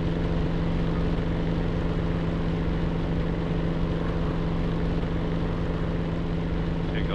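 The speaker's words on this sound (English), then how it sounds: "Da kommen feindliche Flieger an." WW1 propeller warplanes flying in the video game Warplanes WW1 Sky Aces: a continuous, even engine drone with a strong low tone, several planes blending into one loud, unbroken roar.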